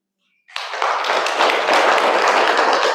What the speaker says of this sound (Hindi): सभी बीच बीच में थोड़ा ताली बजाते रहेंगे।